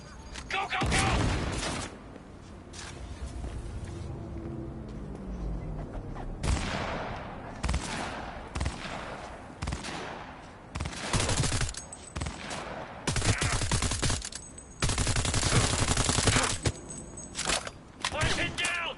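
Heavy gunfire in the Cyberpunk 2077 game, loud bursts of automatic fire and blasts arriving in repeated clusters with short gaps, under shouted voices.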